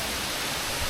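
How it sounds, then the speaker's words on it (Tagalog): Broadband rushing roar of a natural waterfall fed by a river at a swimming spot, steady and loud throughout the short moment with no talk over it. "Wow, waterfall!"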